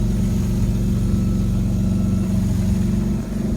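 A Toyota Land Cruiser engine idling after a cold start: a steady, loud, low rhythmic rumble with an even pulsing beat, close up and continuous with no voices.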